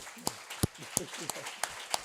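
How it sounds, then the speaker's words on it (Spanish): A small audience at a talk on contemporary music gives sparse, irregular claps, six or seven distinct sharp hand claps spread over about two seconds, fairly faint and close. "Yo creo que un gran aplauso para Fabián, esto por supuesto."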